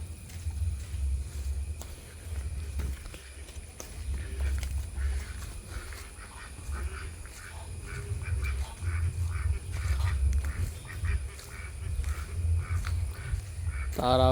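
Ducks quack at a rural homestead in Malappuram, Kerala, near a pond kept for them to drink from. Scattered calls rise out of a steady low outdoor rumble and grow more frequent toward the end.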